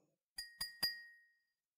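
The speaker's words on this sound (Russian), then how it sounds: "Теперь постучим по ней деревянной палочкой." A glass mug is struck three times with a wooden stick at an even pace, producing clear clinks with a lingering high ring that slowly decays.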